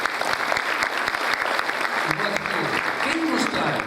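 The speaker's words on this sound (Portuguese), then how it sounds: "Aplauda o Vladimir, por favor." Sustained applause from an audience, steady clapping throughout with a brief voice rising near the end.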